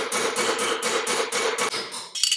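A hammer strikes a metal punch to drive the pin out of a KitchenAid stand mixer, about nine quick, evenly spaced sharp taps that ring close and loud, with no talking.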